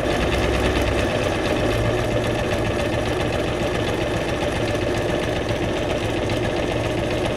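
A sewing machine runs continuously, stitching with a fast, even mechanical whir and rapid needle clatter, close and alone.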